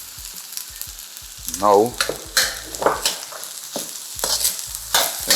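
Egg fried rice being stirred and tossed in a hot pan, seasoned with MSG, sizzling steadily with repeated scraping strokes of a utensil, close and fairly loud, with one brief spoken word over it.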